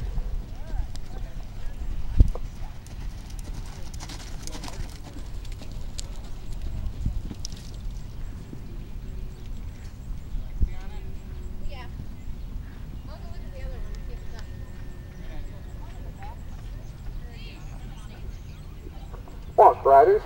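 Horses canter around a riding arena, hooves thudding in a steady rolling rhythm at a moderate distance, while an announcer's voice calls over a public address system.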